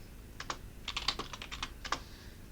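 A short burst of keystrokes on a computer keyboard as a chmod command is entered, quiet, close clicks in a quick uneven run lasting a couple of seconds.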